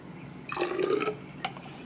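About 75 milliliters of deionized water is poured into a lab flask holding KHP, a short trickling splash lasting about half a second over a quiet background, then a small drip.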